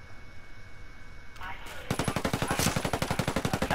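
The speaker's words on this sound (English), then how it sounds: "I'm under heavy fire." Video game machine gun fire erupts after a brief lead-in, a rapid, evenly spaced string of loud sharp shots hammering on for a couple of seconds.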